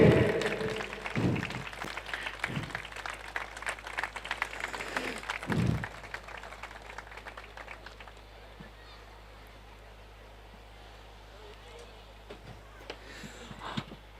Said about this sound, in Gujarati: મિત્રો જોરથી તાળીઓ વગાડજો